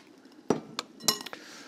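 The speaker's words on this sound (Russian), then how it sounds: "Поэтому я сейчас беру сито." A metal kitchen sieve is picked up and clinks several times in quick, sharp, close metallic taps over a quiet background.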